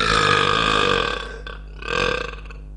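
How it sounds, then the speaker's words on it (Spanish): A deep, very loud, sustained belch from someone known for a world-record burp rumbles for about a second and a half before a second, shorter burst follows, close to the microphone, with no other voices. "¿Alguna vez se han preguntado cómo sonaría el eructo más fuerte del mundo?"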